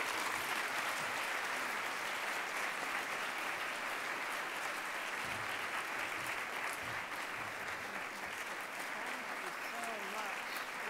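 Sustained, even applause from a lecture hall audience in Charlottetown honouring Dr. Karen Whalley Hammell after a memorial lecture, a dense wash of clapping that stays loud and steady throughout with faint voices beneath.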